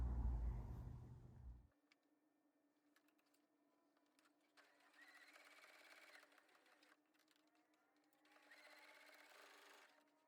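A sewing machine runs in short bursts while stitching a small fabric mini wallet, with a loud opening thud, then quiet pauses between two or three stretches of steady mechanical whirring at close range.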